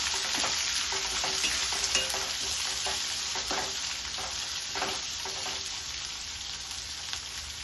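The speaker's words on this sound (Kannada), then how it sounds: "ಈಗ ಈರುಳ್ಳಿ ಸೇರಿಸ್ಕೊತಾ ಇದ್ದೀನಿ. ಇದೆಲ್ಲ ಸ್ವಲ್ಪ ಫ್ರೈ ಆಗಬೇಕು." Onions sizzling and frying with lentils in a hot oiled pan while bhindi palya is made, a steady close crackle with occasional stirring scrapes throughout and no talk.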